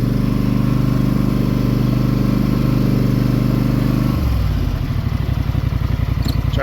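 A Polaris Sportsman 850 ATV, freshly repaired after transmission work, runs its engine with a steady low drone that shifts into a pulsing, rhythmic chug as the machine starts rolling backward in reverse, close and loud.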